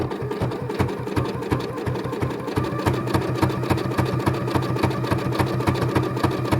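A sewing machine stitches a long fabric tube for a jelly roll rug, running steadily at close range with a fast rhythmic needle chatter the whole time.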